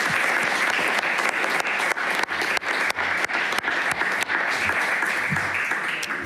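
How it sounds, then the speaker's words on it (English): An audience at a climate conference session on cities and transport gives the panel a warm, sustained round of applause, dense and even throughout with a few sharper individual claps standing out. "A warm round of applause to our fantastic panel."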